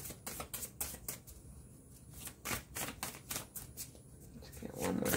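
Tarot cards being shuffled by hand, a rapid series of close, crisp riffling and slapping bursts in irregular clusters, fairly quiet with brief pauses between.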